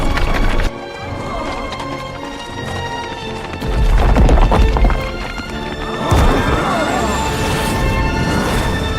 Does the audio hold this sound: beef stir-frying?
no